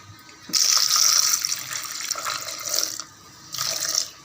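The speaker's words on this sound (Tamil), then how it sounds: "தேவையான அளவு தண்ணி ஊற்றிக்கலாம்" Water poured into a pressure cooker holding tomatoes, tamarind and green chilli for tomato rasam, a close, splashing gush in two bursts separated by a brief pause.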